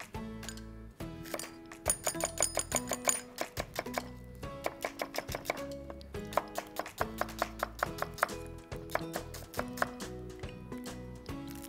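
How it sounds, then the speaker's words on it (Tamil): Three onions are sliced with a knife on a cutting board in a kitchen while Arabian mandi biryani is prepared, a series of crisp, close chopping taps in an uneven rhythm, with clattery kitchen noise between. "ஒரு 3 வெங்காயத்தை ஸ்லைஸ் பண்ணி போட்டுக்கலாம்."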